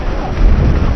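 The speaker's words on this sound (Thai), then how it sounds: "พักรถเนาะเพราะว่าฝนตกนะตอนนี้" Heavy rain in a thunderstorm on a long road trip, heard as a loud, continuous roar of downpour and gusting noise with no pauses and no voices.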